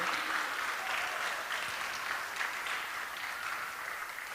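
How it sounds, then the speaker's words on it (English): A crowd applauds at a Srila Prabhupada disappearance day festival in Toronto, steady dense clapping that holds at an even, moderate level throughout without speech. "let's give a huge round of applause to all the wonderful disciples of Prabhupada in Toronto"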